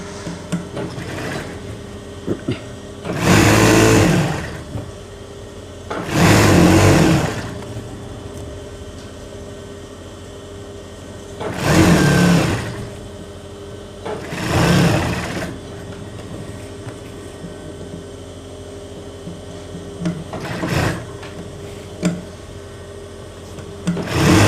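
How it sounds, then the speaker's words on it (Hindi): A sewing machine stitching a kameez seam runs in four short whirring bursts, each a few seconds long, separated by quieter pauses with light handling noise. "और ये ऐसे हमने सिलाई लगानी है।"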